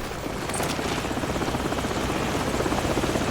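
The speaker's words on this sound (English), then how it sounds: "Hold on, the helicopter's back." A video game helicopter's rotor thumps in a fast, steady rhythm, loud and close, with no voices, in Call of Duty 4: Modern Warfare.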